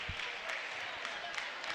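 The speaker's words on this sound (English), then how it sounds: "Cannon will get a nice applause" A crowd at a girls' high school playoff basketball game applauds as player Cannon comes off the court, a steady wash of clapping partly under a commentator's talk.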